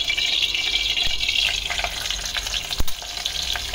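Cumin seeds sizzle in hot ghee with a steady, bright crackle and hiss that holds throughout, with one sharp click near the end, close and fairly loud, no voices.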